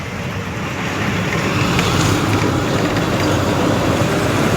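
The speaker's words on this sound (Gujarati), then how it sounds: "તમને દેખાડીએ રેલગાડી હાલી છે." A train rolls by alongside the Morbi–Rajkot highway as a loud, steady wash of rumble and rail noise with no clear breaks. It grows slightly louder after the first second and stays without talk.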